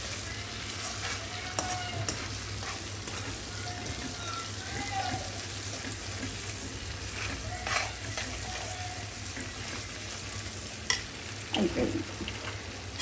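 Instant pulihora mix frying in groundnut oil crackles and sizzles steadily, with occasional stirring scrapes and clinks; a voice talks over it at times.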